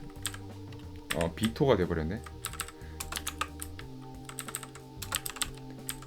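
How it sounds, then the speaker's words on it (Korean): Mechanical keyboard keys clatter in quick bursts, close and crisp, with a short spoken remark in the middle and steady background music throughout. "한 분이 키보드 소리가 너무 시끄럽다고 올려주셔가지고 제가 키보드 소리를 최소화시키려고 노력을 하는데"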